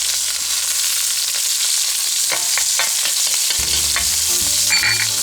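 Green beans, ginger and garlic stir frying in a hot pan, a steady loud sizzle with scraping spatula strokes and clanks of utensils against the pan.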